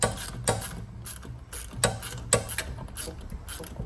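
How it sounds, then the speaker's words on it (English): A wrench tightening the top nut on the front shock absorber of a Fiat 500 Pop, with about eight sharp ratcheting clicks in an uneven rhythm, close and fairly quiet, with no talking. "And that's how you're gonna tighten that nut."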